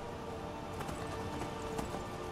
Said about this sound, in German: Durch Skyrim reiten. Auf seinem dicken Kaltblut.